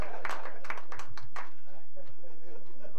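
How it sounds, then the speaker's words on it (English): A church congregation at a birthday celebration service claps in a quick run of sharp, fairly close claps during the first second and a half, then trails off while a person talks. "Clap your hands to Jesus Christ"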